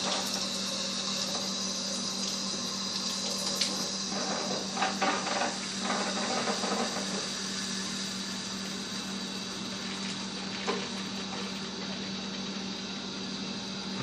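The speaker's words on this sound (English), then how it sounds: "now I'm going to start the wort chiller" Wort chiller running to cool Kolsch wort after the boil, a steady pump hum and trickling water flow with a few light clinks near the start.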